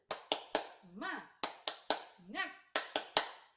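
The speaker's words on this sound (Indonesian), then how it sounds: "marilah kita melakukan tepuk semangat" A class of children performs a rhythmic clapping chant, tepuk semangat, with sharp claps in short groups alternating with sung chanted words, loud and close in a classroom.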